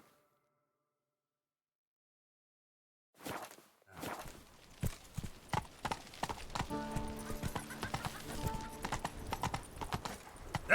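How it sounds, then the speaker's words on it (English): Game horse's hooves in The Witcher 3: Blood and Wine, starting after about three seconds of silence, a snort, then quickening hoof beats building into a steady gallop, with a faint whinny and some music underneath. "Run, Roach"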